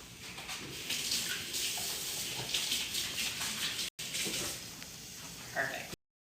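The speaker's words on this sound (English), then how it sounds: "I'm gonna wash my hands again." Tap water running steadily as hands are washed at a kitchen sink during home cooking, a continuous close hiss and splash with a brief break near the end, while a voice talks over it.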